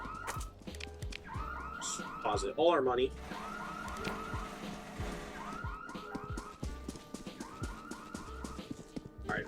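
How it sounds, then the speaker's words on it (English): A car alarm goes off in the Roblox-style video game Criminality, its repeating electronic whoops and warbling tones cycling steadily at moderate distance, mixed with game sounds while a player speaks briefly over it. "Alarm's going off, someone kicked that in."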